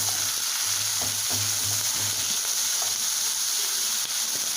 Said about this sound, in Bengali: এবার এই পেঁয়াজটাকে খানিকক্ষণ ভালো করে ভেজে নেব।